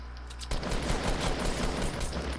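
Rapid Fortnite gunfire bursts out after a brief pause, a loud, dense stream of overlapping shots with no gaps.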